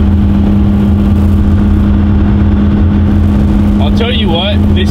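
A second-generation truck's engine drones steadily at a constant pitch, close and loud, with a low rumbling hum throughout; a voice speaks briefly near the end.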